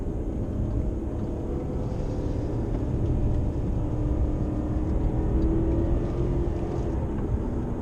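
A 2007 Mercedes-Benz CL550 engine downshifting into second gear, a steady deep rumble with a slight rise in pitch, heard from inside the car with road noise beneath and no talk.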